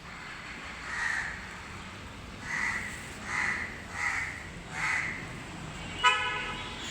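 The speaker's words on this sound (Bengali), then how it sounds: "শব্দ করে ডাকছে, কা কা করে কোনো সঙ্গীকে খুঁজতেছে।" A crow caws in five or so separate, evenly spaced calls from a moderate distance in a quiet outdoor setting. A short horn-like toot follows near the end, and no one speaks.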